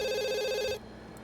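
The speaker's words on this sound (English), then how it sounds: "come answer your phone. It's ringing" A telephone rings in The Sims 2, a steady electronic ring holding for most of a second and then cutting off abruptly, heard clearly with no voices over it.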